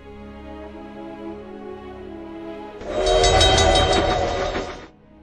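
A train rumbles on the tracks, joined midway by a loud, sustained horn blast that cuts off sharply, then the low rumble continues.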